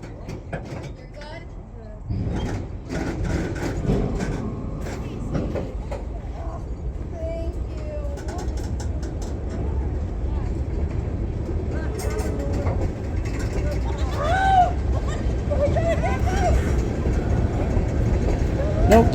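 An old EMD freight locomotive rumbles and grinds nearby as it backs slowly through Conklin Yard, with metallic squeals and clanks of rail cars rising over a steady low engine drone.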